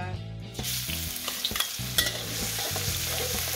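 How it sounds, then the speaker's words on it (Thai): Chili and garlic stir-frying in hot oil in a wok make a close, continuous sizzle, broken by sharp scrapes and clanks of the spatula against the pan. "ผัดพริกกับกระเทียมให้หอมก่อนนะคะ"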